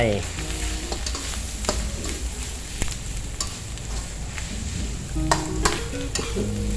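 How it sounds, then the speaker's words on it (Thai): Minced wild bird meat stir-fried with curry paste in a hot pan makes a loud, steady sizzle, broken by repeated spatula scrapes and knocks against the pan, with a low hum underneath. "คั่วให้นก เขากับเครื่องแกงครับ"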